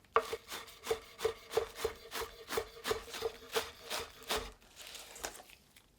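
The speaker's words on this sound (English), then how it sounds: "Chop the onions small." Knife chopping onions small on a board for Kansai-style okonomiyaki, a steady, close rhythm of about a dozen crisp cuts evenly spaced and then stopping.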